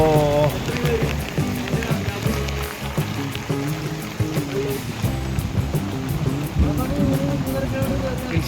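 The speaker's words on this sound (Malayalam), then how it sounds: "നല്ല മഴ കേട്ടോ." Heavy rain falls steadily on a mountain trek to Kareri Lake in Himachal Pradesh, a continuous patter and wash under intermittent voices.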